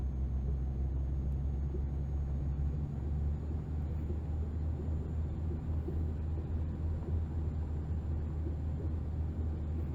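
Steady low truck engine rumble from Euro Truck Simulator 2, pulling hard up a ramp on a mine road at night, a constant droning hum held at even loudness throughout with no talking.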